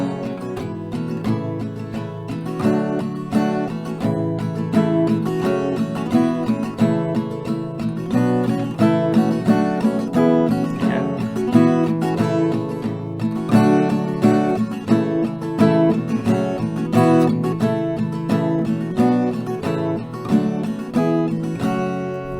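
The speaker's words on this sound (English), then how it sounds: "With that strumming pattern, it sounds like this." Acoustic guitar strumming a song's chorus chord progression in a short, steady strumming pattern, bright full chords ringing continuously at an even volume, no voices.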